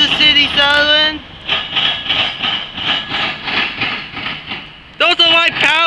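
Two Kansas City Southern locomotives pass close by on a light power move at Marion, Ohio, with a loud, steady rumble and rhythmic clatter. Blasts of the horn come at the start and again near the end.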